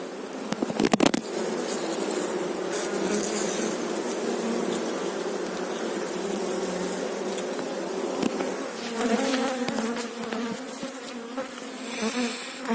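Honey bees swarm around an open hive at an apiary, making a dense, continuous close buzz with a few louder flybys and light handling knocks throughout.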